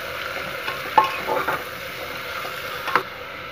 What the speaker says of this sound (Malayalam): നല്ലപോലെ മിക്സ് ചെയ്ത് ഇതിന് ലൈറ്റ് ബ്രൗൺ ആകുന്നവരെ നമുക്ക് ഇത് ഫ്രൈ ചെയ്തെടുക്കാം